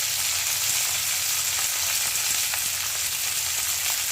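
Green chillies, flat beans and potato fry in oil, giving a continuous, dense sizzle at close range with faint stirring ticks and no voices.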